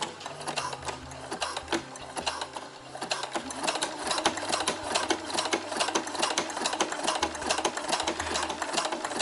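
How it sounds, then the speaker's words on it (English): A domestic sewing machine stitches a straight forward seam on bra fabric, a steady close mechanical whirr with rapid needle clatter running continuously, with brief changes in pace. "I'm going to go straight forward with it"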